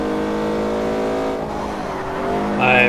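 A video game race car's engine drones steadily, then the pitch sags as the throttle lifts and the brakes come on into a corner, ending with a short high tire squeal; the sound is close and continuous.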